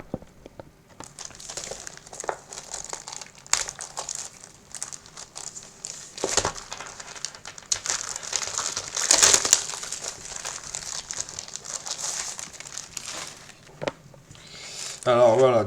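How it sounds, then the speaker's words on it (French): Adrenalyn Premier League card booster packets being torn open and handled, giving close, continuous crinkling and crackling foil wrapper sounds throughout, with brief louder rustles and a person speaking near the end. "Et on va déjà ouvrir les paquets."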